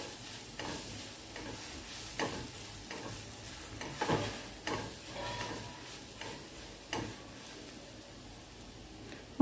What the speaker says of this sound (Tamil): ஜீரகப்பொடி, கரம் மசாலா, பெப்பர் பவுடர் இதெல்லாம் சேர்த்து நல்லா வதக்கி விட்டுக்கோங்க